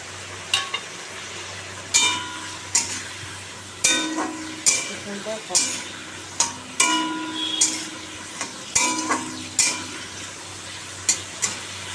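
Tomato and spices for a rohu fish curry sautéed in a pan, with repeated scraping stirs and clinks of a spatula against the pan over a soft sizzle, while someone talks.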